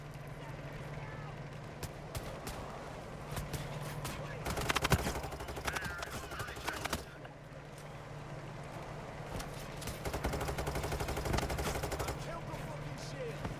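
Rapid bursts of video game gunfire aimed at an FBI van's antenna during a heist, sharp shots and rattling volleys over a constant low hum and busy background noise.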